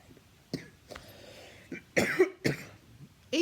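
A person coughs several times in quick succession, close and raspy, while unboxing a yarn haul at home; the coughs come in short rough bursts with brief pauses.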